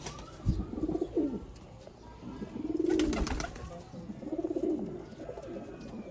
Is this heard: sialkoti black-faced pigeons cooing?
yes